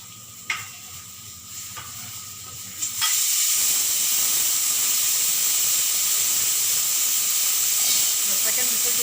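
A pressure cooker full of rajma lets out a loud, sustained steam whistle and hiss that starts abruptly after a few seconds of quieter kitchen clatter and stirring, then holds steady and close.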